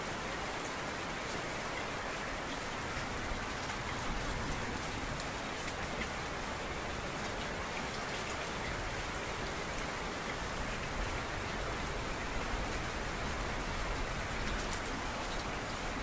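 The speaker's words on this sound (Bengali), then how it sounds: "যতটা বৃষ্টি বাইরে পড়ে, অতটা বৃষ্টি আমাদের ঘরে পড়ে।" Steady rain pours outside a poor household and leaks into the house, where plates and basins are set out to catch it; a dense, even hiss continues unbroken without talk.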